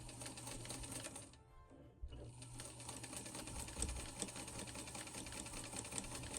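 Sewing machine stitching a Christmas tree skirt, running steadily at close range with a brief slowdown and pause about a third of the way in, then resuming its continuous rapid hum.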